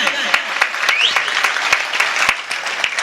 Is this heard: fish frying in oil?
no